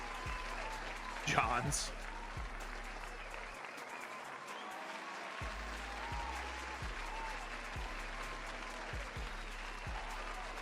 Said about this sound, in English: I'm just going to keep the applause going